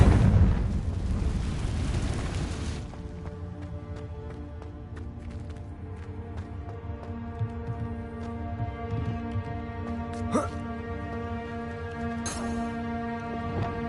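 A Confringo fire spell explodes in the Hogwarts Legacy video game, a loud booming burst at the start that fades into a sustained rumble, followed by ringing tonal in-game music and small scattered effects.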